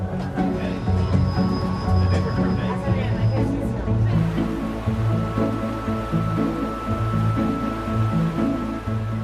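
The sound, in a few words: El Chepe train running on rails, Copper Canyon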